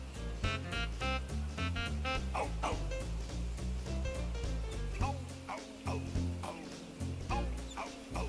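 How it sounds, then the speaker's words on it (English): A toy puppy dog gives repeated high yapping barks and whimpers in quick bursts, close and clear over a steady tonal background. "And this is the dog CACAMAX of which you dreamt."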